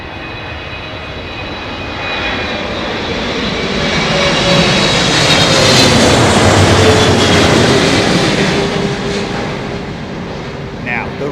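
Airliner landing at Heathrow Airport in gusty wind, a loud, broad jet engine roar that swells as the plane passes close and then holds steady, with people talking over it.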